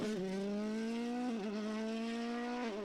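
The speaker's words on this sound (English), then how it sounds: "Thierry Neuville is entertaining the fans with his Hyundai WRC car" Hyundai WRC rally car at the Ypres Masters Rally, its engine roaring loud and close at high revs, the pitch climbing steadily and dipping briefly at two gearshifts.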